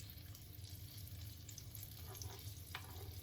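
Banana fried pies frying in very hot grease, a steady close broadband sizzle holding level throughout with faint stirring touches and no talk.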